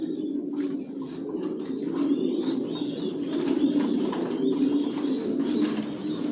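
Racer pigeons coo steadily in a loft, a dense, continuous low murmur of many birds close by with a few faint higher chirps and rustles over it.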